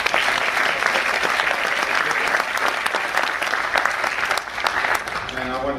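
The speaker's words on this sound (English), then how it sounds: "let's all give Greg a great hand" Crowd at a high school graduation ceremony applauding Greg, a loud, continuous roar of clapping hands filling the space, with faint voices near the end.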